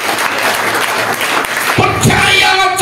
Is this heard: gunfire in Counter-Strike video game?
no